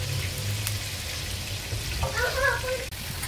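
Three tomatoes, four red serrano chiles, four green habanero chiles, a piece of onion and two garlic cloves crackle and sizzle on a hot comal, a close, steady hiss with small pops and a brief clatter near the end.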